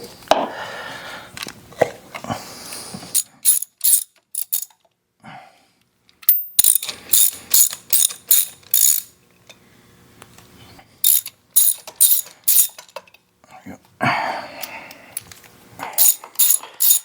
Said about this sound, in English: let's get the spark plugs out